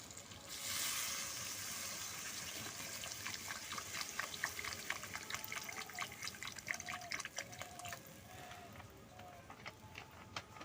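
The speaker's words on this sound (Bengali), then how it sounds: "এখানে আমি পরিমাণ মতো জলটা দিয়ে দিচ্ছি।" Water poured into a pan of Bata fish curry with potato and eggplant, a soft continuous splashing and bubbling under a faint sizzle, quiet and close.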